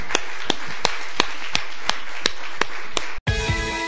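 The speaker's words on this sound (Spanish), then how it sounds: "Le damos un aplauso al Señor, iglesia." A church congregation claps in unison, sharp evenly spaced beats about three per second over a hiss of background noise, then the sound cuts abruptly into music.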